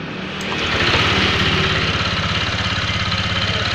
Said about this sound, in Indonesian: Apakah mendengar dengan suara mesin yang kasar seperti diesel?